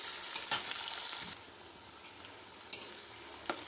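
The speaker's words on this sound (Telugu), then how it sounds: "ఉల్లిగడ్డ కరివేపాకు గోల్డ్ కలర్ వచ్చే వరకు ఫ్రై చేసుకోవాలండి ఆనియన్స్." Onions and curry leaves fry in a pan, with a soft steady sizzle broken by a few brief clinks or stirs. The sound is fairly quiet and close, and no one speaks.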